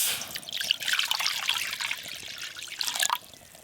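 Water poured while cooking, a close trickling splash that runs for about three seconds and then stops, fairly quiet and alone.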